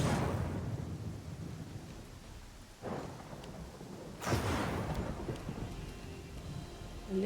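Rain and thunder roll through a storm in the video game Pathfinder: Kingmaker, with a steady hiss of rainfall broken by two loud rumbling thunder crashes and no speech.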